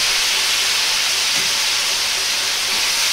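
Chicken stock poured into a hot wok of stir-frying liver and garlic chives erupts in a loud, dense hissing sizzle that holds steady throughout, with no voices present.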